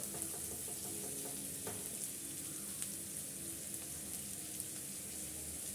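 Vegetables with salt and chopped green chillies being mixed for a bun filling, a steady close crackling, stirring rustle running unbroken throughout with small clicks of utensil contact.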